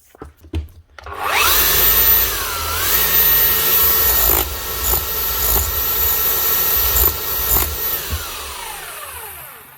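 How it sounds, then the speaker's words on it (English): An old Makita HR3000C rotary hammer, freshly greased after repair, whirs up to speed and runs with a steady motor drone and rapid hammering for several seconds before winding down, with no talking. "they're working and hammering perfectly like that there, and it's able to lift itself off the surface from its own hammer force"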